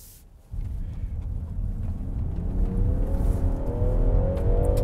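A 2023 Land Rover Defender 130 accelerates from a near-quiet start, its engine note kicking in abruptly and then rising steadily in pitch and volume as it pulls, heard close from inside the cabin.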